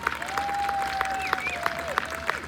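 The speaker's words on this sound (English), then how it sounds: "a round of applause for our sound guy, Frank" Scattered claps sound at a steady pace from an audience at an outdoor summer lawn concert on Cousins Island, with a sustained whistle-like tone drifting over them. The clapping is moderately close and not very loud.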